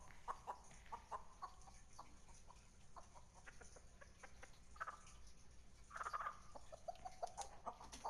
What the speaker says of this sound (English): The game's composer, Ross Tregenza, used real chickens for the audio for Nugget